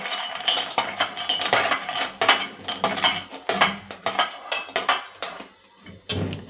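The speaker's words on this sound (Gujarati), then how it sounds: "એક વાટકી છે તે મેં બદામ લીધી છે તે એડ કરીશું" Almonds poured from a small bowl into a container, a loud, close run of hard rattling clatters and clicks in quick irregular bursts.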